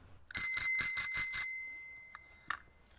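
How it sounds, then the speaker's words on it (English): A bicycle bell on a crashed Sparta Apollo with a broken bell strap rings six quick, bright strikes close up, leaving a lingering metallic ring, followed by two fainter single dings. "It's not a bad sounding bell"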